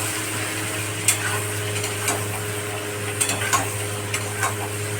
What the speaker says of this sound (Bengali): এবার মশলা দিচ্ছি, জিরে, ধনে, লঙ্কা, হলুদ গুঁড়ো আর নুন, টেস্ট মতো দিয়ে একটু নেড়ে ছেড়ে